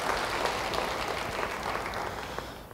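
Steady applause from a church congregation during a sermon, a dense patter of clapping holding at an even level for a few seconds with no voices over it.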